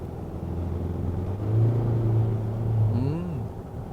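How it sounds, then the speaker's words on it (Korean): A Hyundai Palisade SUV engine hums low and steady, then rises as the vehicle pulls away, with a faint tonal whine over the rumble. "다시 출발할 때는 엔진음이 어느 정도 들려오긴 하지만"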